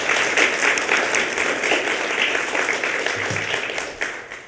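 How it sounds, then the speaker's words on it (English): Audience applause for inductees at a Tri Alpha honor society induction ceremony: a sustained, even wash of clapping from a seated crowd, fairly loud and gradually easing off near the end. "Let's give all of our inductees a final round of applause."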